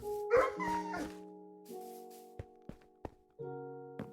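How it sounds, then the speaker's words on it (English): A Minecraft dog gives short whimpering yips and small barks, several brief calls spaced apart with sustained game tones in between, close and clear with no talk. "the dog sounds are awful"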